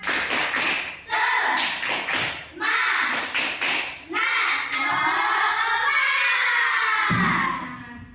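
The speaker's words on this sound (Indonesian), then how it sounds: "agar lebih semangat lagi, kita tepuk semangat dulu" A class claps in a quick rhythmic pattern while chanting together, the claps and voices alternating in bursts, ending in sustained group voices.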